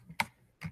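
Keyboard shortcut presses copy and paste a link on a computer, heard as two quick, close clicks about half a second apart.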